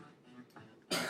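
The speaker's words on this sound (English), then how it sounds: "Whoa, I just coughed randomly there." A single person coughs once near the end, a sudden harsh burst, preceded by quiet throat and breath noises.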